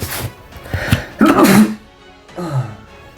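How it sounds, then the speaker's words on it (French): A single loud, close sneeze bursts out from a person, followed by a softer throat-clearing sound. "je viens d'éternuer"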